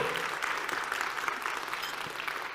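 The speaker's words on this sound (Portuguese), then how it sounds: "Uma salva de palmas" An audience at a panel event claps in steady, dense applause for a speaker. The clapping is even and continuous throughout this short stretch.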